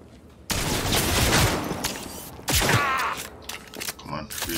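In the shooter game Cyberpunk 2077, two loud bursts of gunfire crack out about two seconds apart, each with rattling, echoing tails, mixed with scraping and movement noises while a person talks.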